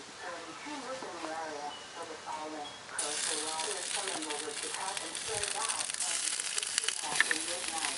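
Grouper shish kebabs sizzle on a hot, greased grill at medium-high heat, a steady crackling hiss that swells louder partway through and continues with a voice speaking over it.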